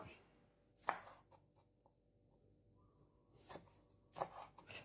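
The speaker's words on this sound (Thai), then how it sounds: "หั่นพริกชี้ฟ้าแดงเตรียมไว้ด้วยครับ" A knife chops red spur chilies on a cutting board for a Thai pork neck stir-fry with curry paste, giving a few sharp, close chops spaced apart with light tapping between them, quiet overall.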